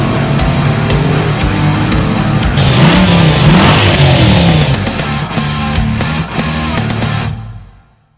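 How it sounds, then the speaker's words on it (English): A 2020 Chevrolet Corvette C8 accelerates hard with wheel spin, its engine roaring loud and close for several seconds before the sound cuts off abruptly. "We get some wheel spin."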